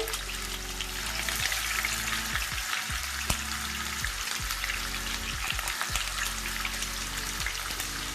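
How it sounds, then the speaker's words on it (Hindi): Fish shallow-frying in oil over a low flame, a steady soft sizzle with light crackles and pops running throughout, close by, with no voices. "यहाँ पे हम शैलो फ्राई कर रहे हैं फिश को धीमी आंच पे"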